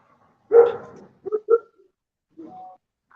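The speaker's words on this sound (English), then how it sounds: "I know my dogs are barking out there." Dogs barking outside a house: one loud bark, then a couple of short, softer barks and a faint whimpering yip, with quiet pauses between them.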